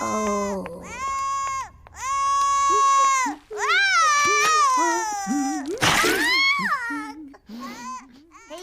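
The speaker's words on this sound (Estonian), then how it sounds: "Mu pisike sugulane nutab ja see paneb mul kõrvad huugama" A cartoon baby cries and wails in long, wavering, bleating bursts, rising and falling in pitch, loud and close, separated by brief gaps with some babbling sounds mixed in.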